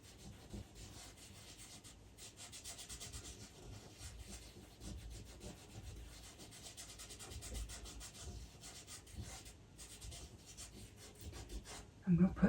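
Soft, steady rubbing of pastel on paper while working on a pet portrait, a close, continuous scratchy friction that runs almost the whole time, with a brief louder knock right at the end.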